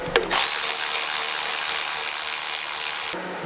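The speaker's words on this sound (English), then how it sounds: "we gotta take these three 14 mil bolts off" A tool works 14 mm bolts free on a car engine during a power steering delete, giving a dense, continuous mechanical whir close up for about three seconds, with brief clicks at the start before it cuts off.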